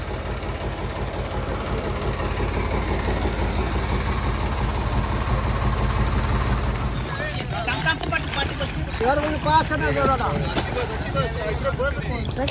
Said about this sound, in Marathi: आता ही होडी आपल्याला तिथे सोडेल आणि त्यानंतर मग आपण घरी जाऊ